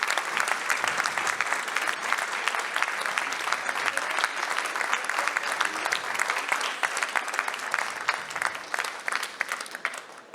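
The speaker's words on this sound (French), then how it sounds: "je pense que c'est bien de les applaudir" Audience applause for the three finalists of a funeral masters-of-ceremony eloquence contest, a dense, steady clapping from a crowd that carries on for about ten seconds.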